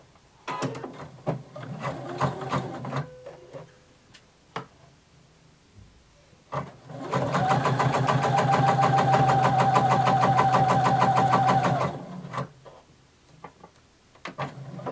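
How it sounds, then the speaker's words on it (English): A sewing machine set to its longest stitch length runs a basting stitch in short bursts, then a sustained steady whirring run of rapid needle strokes, close and fairly loud, stopping abruptly. "we're going to sew a basting stitch until we reach our notch"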